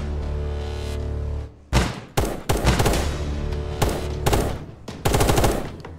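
Loud in-game gunfire from Apocalypse Rising 2, a steady drone first, then repeated sharp bursts and single shots in irregular clusters, close and punchy.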